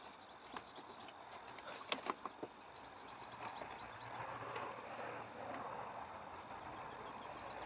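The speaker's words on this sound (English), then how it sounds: "Pretty birds." Birds singing outdoors, faint repeated chirps and trills over a low background hum, with a few sharper clicks early on.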